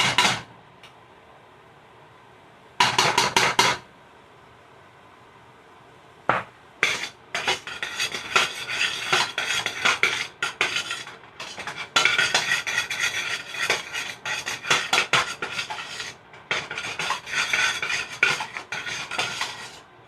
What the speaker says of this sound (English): I'm gonna go and add the roux in.